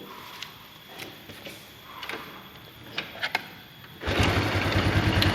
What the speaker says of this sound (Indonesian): Untuk motornya kita nyalakan terlebih dahulu.